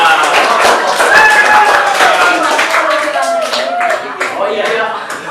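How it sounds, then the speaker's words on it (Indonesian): A classroom group applauds group 4 in a lively, sustained patter of many hands, with voices chattering throughout. "Kasih aplaus untuk kelompok 4."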